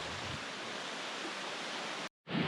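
Steady rush of water in a stream, an even hiss that cuts out abruptly near the end and briefly resumes, with no talk.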